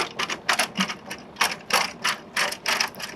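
A Fiamma awning on a Nissan NV2500 camper van conversion gives a series of quick mechanical clicks and ratcheting rattles in short, fairly regular bursts at close range, fairly quiet, with no voices.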